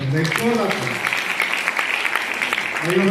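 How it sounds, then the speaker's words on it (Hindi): An audience at a training camp in Amritsar claps loudly and steadily in a dense, continuous round, while a speaker's voice is heard over the clapping at the start and end. "तो आपके लिए एक जोरदार ताली"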